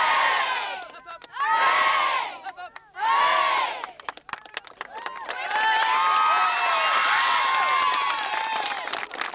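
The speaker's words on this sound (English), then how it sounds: "So 3 cheers now for Downings." A crowd at a county final match gives three loud hip-hip-hooray cheers, each a swelling burst of massed voices, then breaks into sustained cheering, shouting and applause from many people, children among them.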